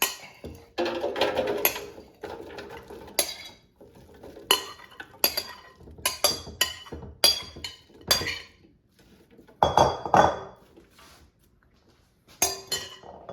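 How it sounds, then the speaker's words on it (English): Clattering clinks and knocks of a metal air fryer basket being handled and slid into an air fryer, loaded with oiled, seasoned okra and potatoes; irregular close bursts of sharp rattles with short pauses, no talking. "Put the air fryer basket in the air fryer."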